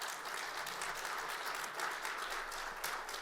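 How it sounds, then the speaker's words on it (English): Steady applause from a sizable conference audience at CES, dense continuous clapping that holds at an even level throughout with no voices standing out. "Let's give her a round of applause."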